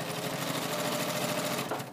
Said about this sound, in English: Now I'm going to put my needle down on my sewing machine